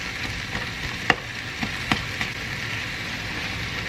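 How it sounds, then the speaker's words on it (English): Zucchini fries in a wok with a continuous close sizzle, broken by a few sharp pops and crackles, and no voices over it. "So it kind of steams the non-cooked zucchini a little bit before it fries up in the wok."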